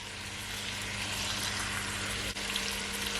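Onions sautéing in a pot for Jamaican curry goat, a dense, even, continuous sizzle heard up close with a low steady hum beneath and one brief dip.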